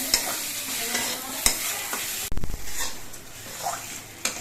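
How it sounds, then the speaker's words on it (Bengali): Fried potatoes stirred into spice paste in hot oil, an even sizzle under brisk scraping strokes, with a sharp clatter midway, close up and without talk. "এবার আলু দিয়ে মশলা দিয়ে কিছুক্ষণ কষিয়ে নিতে হবে"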